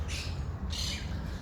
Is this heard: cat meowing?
no